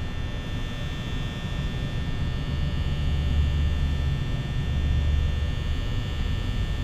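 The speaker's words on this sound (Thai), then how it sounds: "ปิดพัดลมได้ไหมเปลืองไฟ" Steady electric hum of an office fan in Five Nights at Freddy's, a constant low drone with a faint high whine, running alone and unbroken throughout.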